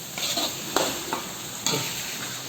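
Potatoes frying in a pan with salt mixed in, a steady close sizzle with a few sharp scraping stirs of the spoon, no talking.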